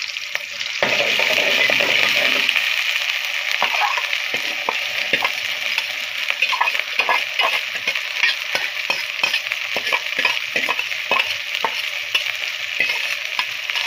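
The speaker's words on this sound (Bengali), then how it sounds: "পেঁয়াজটার সাথে আমি চিংড়ি মাছগুলো দিয়ে দিব, কারণ চিংড়ি মাছগুলো একটু ভাজা হয়ে যাক সাথে" Shrimp frying with onions in a hot pan at home, a steady close sizzle with repeated scraping stirs ticking through it, loud and continuous with no talking.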